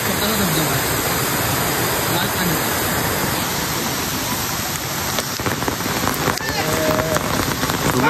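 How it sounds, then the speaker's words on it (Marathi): Heavy rain pours down steadily outdoors during a Ganesh festival gathering at a temple, a dense constant hiss filling the whole scene, with voices faintly beneath it. "खूप पाऊस पडतोय"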